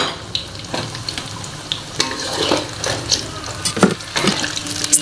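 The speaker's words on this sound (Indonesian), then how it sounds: "lalu kita masukkan brokolinya satu persatu. Kita goreng dengan api sedang ya teman-teman" Broccoli pieces fry in oil over medium heat, giving a close, steady crackling sizzle with irregular pops and spatters throughout.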